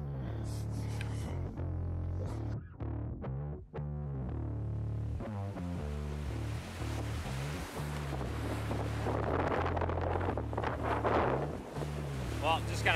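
Strong wind buffeting an open fishing boat at sea amid spray, a steady loud roar of wind noise and water sloshing throughout, with hull knocks and a low engine-like hum underneath.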